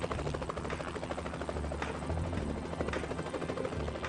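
A helicopter flies nearby with a steady, heavy rotor thrum and engine whine that holds loud and constant throughout.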